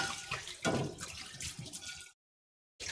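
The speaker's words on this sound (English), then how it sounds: "pan actually in my sink, which I'm going to rinse off" Water running from a kitchen sink tap while a pan is rinsed, a close splashing and gurgling flow with uneven surges for about two seconds before stopping abruptly, followed by a short silence and then more splashing.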